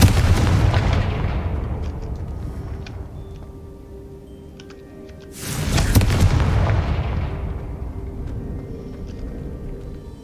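Two booming fire-spell blasts from Hogwarts Legacy, each a loud explosive burst that fades into a long rumbling tail, the second following a few seconds after the first.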